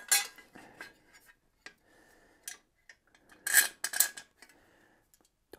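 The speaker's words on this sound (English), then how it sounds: "So we'll loosen up our screws." Small metal screws being loosened at the fork mounting points of a Retrospec Beaumont REV 2 city e-bike, heard as scattered close scraping, rasping turns and light metallic clicks, with a louder burst of grinding rasps near the middle.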